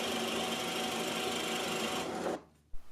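A drill press boring holes in maple runs with a steady, loud mechanical whirring and grinding, then stops abruptly, followed by a single dull knock.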